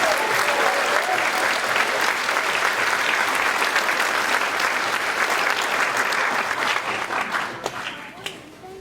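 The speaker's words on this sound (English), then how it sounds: "Let's have one final round of applause for all the seniors" A high school concert audience claps steadily for several seconds, a dense, loud wash of applause that thins slightly toward the end.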